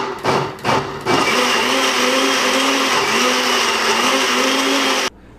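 Red cabbage leaves are pulsed in a blender: two short bursts of loud whirring, then a steady, close, continuous roar of the motor that cuts off abruptly.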